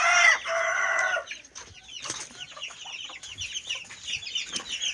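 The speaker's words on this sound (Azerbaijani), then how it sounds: "Ördək balalarımız buradadır." Young ducklings and chicks in a backyard poultry setting give high, thin cheeping calls, dense and insistent at first, then scattered peeps of varying loudness close by, with no talk.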